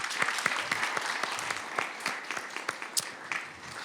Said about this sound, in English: let's give another round of applause for our speaker